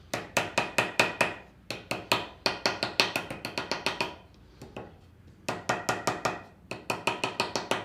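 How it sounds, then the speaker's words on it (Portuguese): Small hammer or mallet tapping wood into a mitre joint, with rapid bursts of sharp, close knocks in quick rhythmic runs and a brief pause midway. "Agora é descer a madeira, bater com aquele martelinho ou com o macete."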